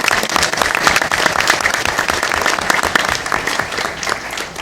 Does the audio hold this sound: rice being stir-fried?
no